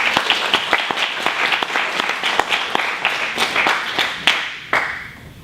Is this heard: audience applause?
yes